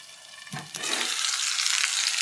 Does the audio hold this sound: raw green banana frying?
yes